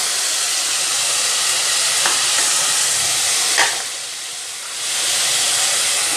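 Onions sizzling in a hot pan for chicken palak kofta, a steady loud frying hiss throughout with a couple of faint clinks and a brief dip midway.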